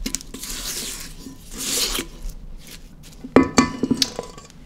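A spatula scrapes creamed sugar and butter off the sides of a mixing bowl while making an Instant Pot cheesecake, giving soft rubbing strokes followed by a few sharper knocks and taps near the end.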